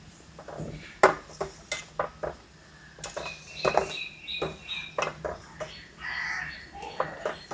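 Peanut ice cream mixture being stirred in a pot at home, a spoon knocking and scraping the pot in irregular clinks, with some voices in the background.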